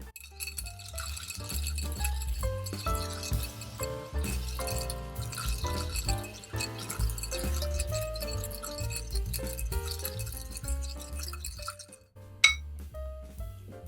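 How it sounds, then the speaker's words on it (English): Ice is stirred in a mixing glass while a smoked rye cocktail is chilled, making a steady run of light clinks and rattles. The sound continues for many seconds over soft background music. "So I'm going to add ice to our mixing glass. And then we're going to stir for about 20 to 30 seconds"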